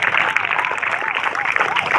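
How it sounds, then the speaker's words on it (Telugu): School students clapping together in a steady burst of applause throughout, indoors, with some voices mixed in. "చప్పట్లు కొట్టండి."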